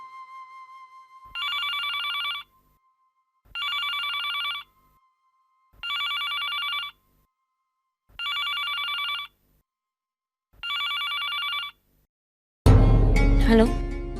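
A telephone rings in five even bursts separated by short silences, loud and close, before other sounds take over at the end.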